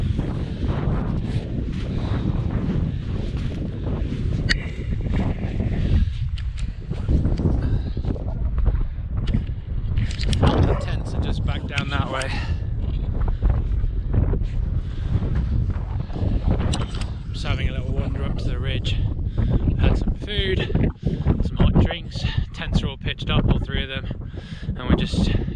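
Freezing wind at a snowy winter wild camp in Wales, deep snow and about -4 to -8 degrees, buffets the microphone with loud, gusty rumbling the whole time while a person talks over it.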